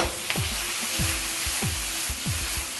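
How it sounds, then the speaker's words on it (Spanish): Vegetables, mushrooms, brown rice and sesame seeds toast in a frying pan with a steady close sizzle, broken by four or five rhythmic scraping sweeps of a utensil, with no voice. "que se tuesten aquí un poquito en la sartén"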